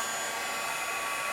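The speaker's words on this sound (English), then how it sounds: "now I'm going to get out my heat tool, and it's going to get a little noisy" Heat tool blowing hot air to melt embossing powder, a steady loud whooshing roar like a hair dryer, held constant and alone throughout.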